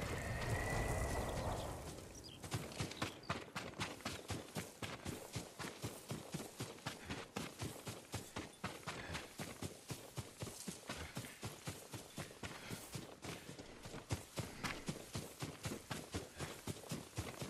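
Horse hooves clip-clop in a fast, steady rhythm, like a trot or canter, continuing evenly after a brief rushing noise at the start, in the video game Ghost of Tsushima.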